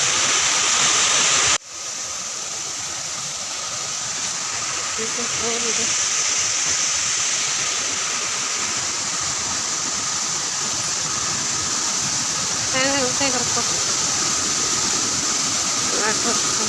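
A loud waterfall at Phurlijharan in Kalahandi roars as a constant broad wash of rushing water, close and steady throughout after a brief dip near the start.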